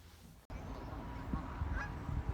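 Swans honking among the broad outdoor ambience of Hyde Park in London, with several low, irregular calls rising above a steady murmur of wind and distant activity.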